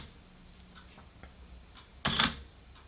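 Sony A7RII camera shutter firing with YongNuo wireless speedlites, a single sharp mechanical snap near the end after a few faint ticks and clicks in a quiet room.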